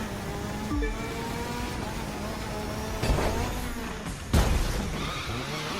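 Rallycross car racing in The Crew 2 game, with a steady engine drone running throughout and a couple of sharp crashing impacts near the end, loud and close.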